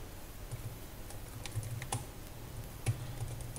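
Soft, quick clicks of typing on a computer keyboard, with irregular keystrokes and a few sharper taps, quiet and close with no talking.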